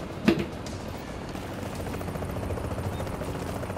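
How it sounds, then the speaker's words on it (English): A helicopter circles overhead in the video game Tom Clancy's The Division, its steady rotor drone running low and continuous, with a brief sharp burst near the start. "Chopper!"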